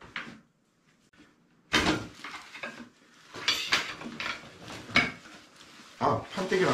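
Wooden Mountriver folding camping shelf being collapsed, with clacking, knocking and sliding wooden knocks and clicks of varying loudness close by, under occasional talk.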